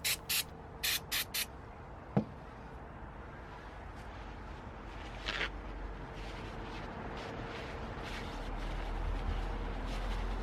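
Brake cleaner hisses from a tin in several short bursts early on, then a sharp tap and another brief spray, with a low rumble rising toward the end.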